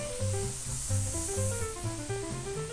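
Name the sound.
baking soda fizzing in boiling dates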